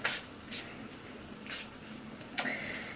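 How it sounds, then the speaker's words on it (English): Four short hissing bursts of leave-in hair spray are pumped from a spray bottle onto hair, spaced about a second apart and fairly quiet in a still room. "I'm going to spray my hair with, it's a 10 Miracle Leave-In product."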